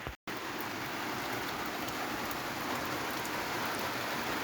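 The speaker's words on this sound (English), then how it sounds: "It's raining." Steady rain on a rainy day, a dense, continuous hiss of falling drops close by that fills the scene after a brief cut at the start.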